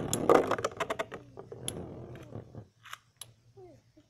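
Beyblade spinning tops clashing in a stadium during a four-way battle: a burst of rapid sharp plastic clicks and scrapes, then sparse ticks and a faint whir as the spinning settles.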